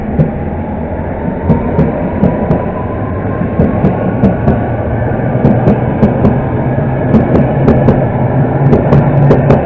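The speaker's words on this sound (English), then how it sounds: "departing now is the London Underground Met Line service from Baker Street to Amersham" A London Underground Metropolitan line train departs John & Pinner station, a loud continuous rumble with repeated clicks of wheels over rail joints as it pulls away.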